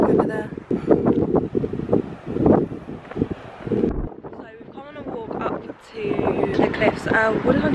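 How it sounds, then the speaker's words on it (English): Strong wind buffets the microphone on a Cornwall clifftop, gusting loudly throughout while people talk over it. "it's so windy up here"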